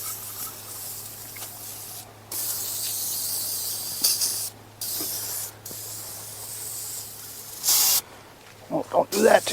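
Interior of an old Squarebody Chevy truck being sprayed down, several loud hissing bursts of spray separated by short pauses, with brief talk at the end.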